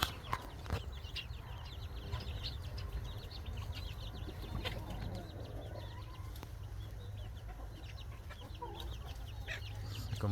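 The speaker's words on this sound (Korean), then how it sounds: "저기 청년 닭들이 있습니다." Scattered soft clucks from several young chickens, faint and distant, over a steady low rumble with no talking.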